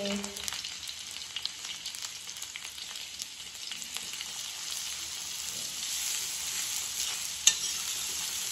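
Finely chopped onions fry in a pan for noodles, giving a steady, fairly quiet sizzling hiss throughout with faint stirring scrapes and one sharp click near the end.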